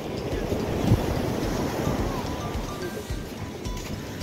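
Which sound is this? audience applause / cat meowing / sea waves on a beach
sea waves on a beach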